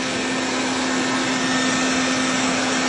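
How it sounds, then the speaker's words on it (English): A homemade vacuum cleaner built from a hairdryer, a mask and a water bottle top gives a steady, loud motor whine and rushing airflow, close and unbroken throughout. "A hairdryer plus a mask plus the top of a water bottle equals a vacuum cleaner?"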